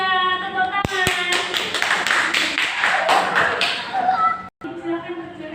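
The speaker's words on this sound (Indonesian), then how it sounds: "Tepuk tangan." Classroom applause from a group of fourth-grade pupils, a dense burst of clapping lasting several seconds with voices mixed in, then breaking off abruptly into a teacher speaking.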